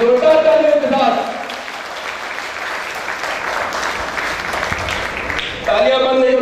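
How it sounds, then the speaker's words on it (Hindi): Loud, sustained applause from an audience at a real estate company's stage event in India, filling the middle of the clip, with a voice speaking over the start and end. "वो मंच पर आए, आप लोग को संबोधित करें जोरदार तालियों के साथ।"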